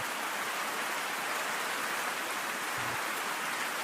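Steady rain falling, a dense even hiss of drops that stays constant throughout with no voices.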